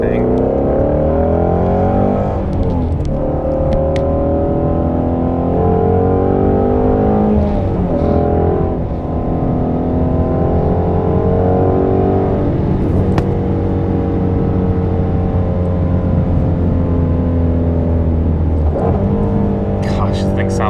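A Ford Shelby GT350 with its Voodoo V8, driven on a backroad, revs hard through several gears with rising engine pitch and sharp drops at each shift, loud and close from inside the car, with a driver talking now and then.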